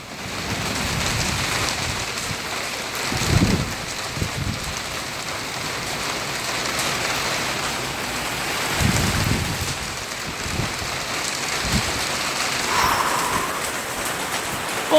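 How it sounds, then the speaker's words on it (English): A moderate thunderstorm downpour hisses steadily on nearby surfaces, with heavier gusty bursts swelling and fading now and then, the rain continuous and fairly loud with no voices. "now it's just a moderate downpour"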